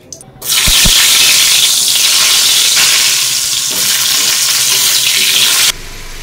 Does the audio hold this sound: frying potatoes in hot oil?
yes